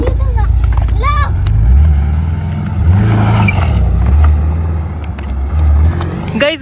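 A car engine in a super car race is revved again and again as the accelerator is pressed, its low drone rising and falling under loud, excited talking.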